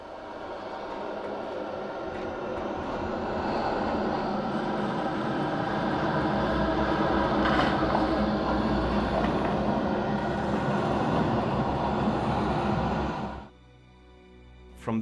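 A bat sound effect built for the Alan Wake video game forms a dense, rumbling, fluttering roar that builds steadily for about thirteen seconds, then cuts off abruptly to near silence.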